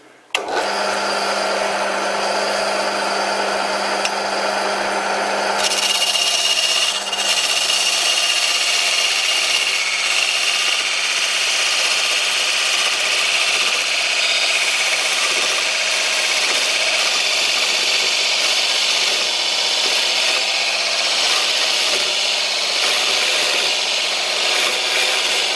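A homemade parting tool made from a hacksaw blade cuts into alder wood. A low machine hum gives way to continuous harsh scraping and rasping that stays steady and close.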